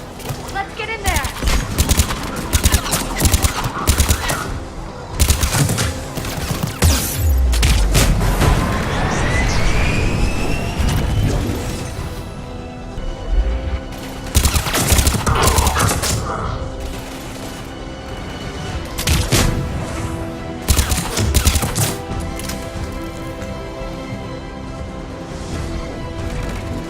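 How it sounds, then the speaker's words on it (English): Gunfire rattles around a besieged checkpoint in Mass Effect 3: dense, loud volleys of rapid shots with mechanical clatter and blasts. The fighting continues in waves over a long stretch, with voices heard between bursts. "The checkpoint is under fire!"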